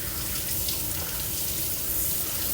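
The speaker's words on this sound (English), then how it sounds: "So I'm going to rinse these off right quick." Vegetables are rinsed under a running kitchen tap for a Greek horiatiki salad, a steady broadband rush of water splashing into the sink that holds evenly from start to finish, close and fairly loud, with no one talking.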